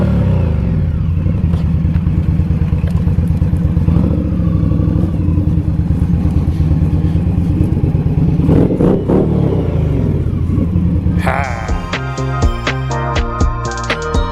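An Indian Scout 60 motorcycle cruises along a rural Pennsylvania highway, its engine a loud, continuous rumble with wind roar close to the rider, before music takes over near the end.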